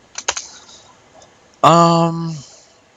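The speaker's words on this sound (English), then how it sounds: "I'll start typing in this box." A few quick keyboard keystrokes in a close burst, followed by a loud sustained electronic tone lasting almost a second, recorded during a Project1999 2v2 gaming event with commentators.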